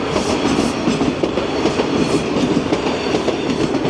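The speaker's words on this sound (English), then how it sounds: "It's a northbound train." A northbound train on a Toronto line passes close by, loud clickety-clack of wheels over rail joints with a steady rumbling roar and no voices.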